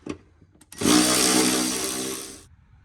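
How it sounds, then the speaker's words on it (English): Cordless battery ratchet spinning off 13mm nuts from a transmission mount under a BA/BF Ford Falcon XR6, a loud steady whirring burst of about a second and a half after a few faint knocks, alone with no talk. "now they should come out pretty easy with the little battery ratchet"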